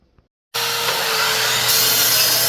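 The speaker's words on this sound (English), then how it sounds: "I'm going to cut a sacrificial board to attach it to" A power saw cutting a wooden sacrificial board starts abruptly after a brief silence, then holds a loud, close, steady whine and rasp of the blade through the wood.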